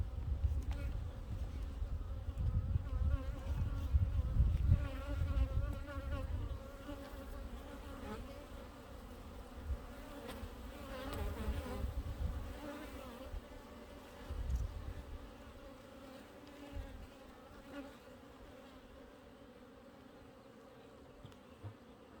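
Honeybees drone and buzz steadily from an opened backyard hive, a dense close swarm hum that swells and fades over about twenty seconds, with faint handling noises and no clear speech.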